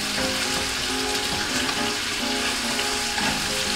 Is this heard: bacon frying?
yes